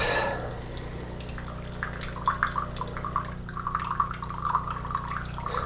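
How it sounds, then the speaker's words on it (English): Hot water from a Café Affetto automatic espresso machine streams steadily into a cup, a soft continuous trickle with light splashy drips over a low background hum. "I'm going to pour a little hot water into this cup just to get it hot"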